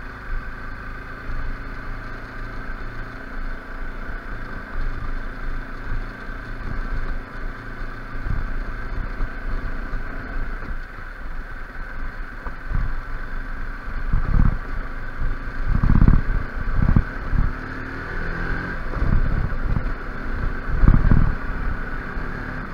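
An NS200 trail motorcycle rides along a rocky river route, its engine droning under steady wind buffeting, with louder bursts and revs toward the end.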